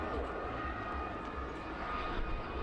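A Navion light aircraft at the Parco Victory Festival air display gives a steady, moderately distant engine drone that holds level for a few seconds, with no talk over it.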